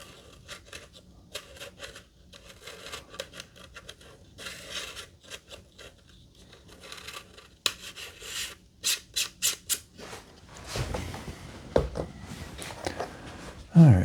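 A wide-angle lens being screwed onto a Eufy SpaceView Pro E110 baby monitor camera gives soft, close scraping and clicking twists in short bursts, with a few sharper handling knocks near the end.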